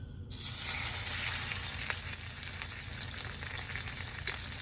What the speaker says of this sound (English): I got a little bit of butter and a little bit of olive oil.